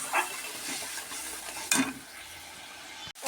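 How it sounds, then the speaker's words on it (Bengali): Potatoes frying and being stirred in a pan in a home kitchen, a steady soft sizzle broken by a few scraping stirs and a sharp clink near the end, no voices. "আলু ভাজা হয়ে গেছে"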